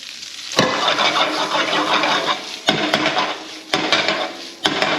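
New red potatoes fry in a hot pan left over from cooking mahi mahi, giving a steady broadband sizzle punctuated by several sharp clatters of a utensil against the pan, with no voices present.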